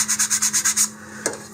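Hand sanding of model rocket fins: seven quick rhythmic rasping strokes, close and crisp, followed by a pause and one lighter scrape.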